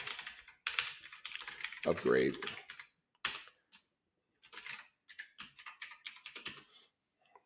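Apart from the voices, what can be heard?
typing on a laptop computer keyboard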